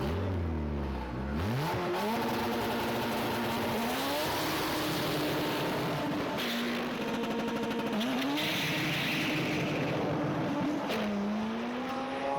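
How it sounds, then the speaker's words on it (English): Turbocharged Honda Integra race cars at a drag strip, engines screaming loud and close as they rev up through repeated rising gear shifts, with tyre noise and a constant high-pitched whine over the roar. "Ronnie also brought down the Mag and Turbo Integra."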